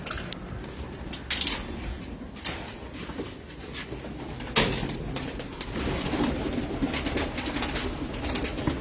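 A pigeon coos softly in a home loft, low murmuring calls with a few sharp clicks and wing shuffles, faint and close.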